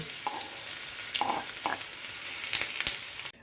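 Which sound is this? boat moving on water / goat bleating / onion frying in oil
onion frying in oil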